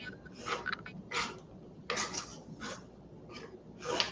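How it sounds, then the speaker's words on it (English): Crepe cake batter being stirred in a bowl: a utensil scrapes against the bowl in uneven bursts of rasping strokes, close and fairly quiet, with short pauses between them. "Just give it a nice good stir."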